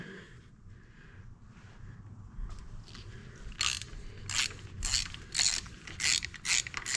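A ratchet loosens the drain plug on a 2021 Polaris General XP, starting with faint quiet clicking and building to a series of sharp, close ratcheting bursts in an uneven rhythm.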